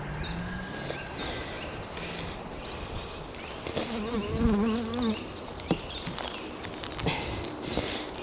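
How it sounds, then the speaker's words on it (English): Bees swarm around an allotment beehive, close and continuous with shifting buzzes, while faint handling noises and a few soft knocks sit underneath. "So there's still bees under here, a lot of them"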